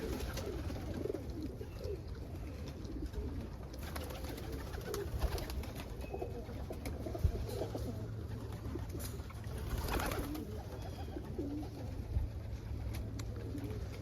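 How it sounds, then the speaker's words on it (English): A crested opal Homer pigeon cockbird coos softly in an outdoor loft, its low calls rising and falling over faint background ambience, with no voices. "Here is a crested opal Homer cockbird."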